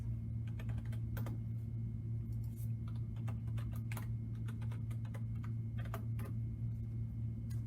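Computer keyboard typing while logging into a medication records system, soft irregular key clicks over a steady low electrical hum, fairly quiet and close.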